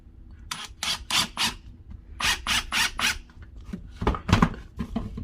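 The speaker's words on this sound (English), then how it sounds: "I'm going to use my drill now" A cordless drill with a Phillips bit drives screws into wooden plant stand legs, giving a series of short whirring bursts in two clusters followed by a heavier grinding burst near the end.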